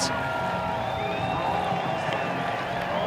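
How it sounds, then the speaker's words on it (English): A crowd cheers and roars at a ski jump, a steady wash of distant voices that stays loud for the whole stretch. "I hear the crowd cheering"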